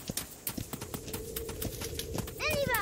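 Video game horse hooves clip-clopping at a walking pace as the horse is led by hand, close and rhythmic, ending in a brief whinny.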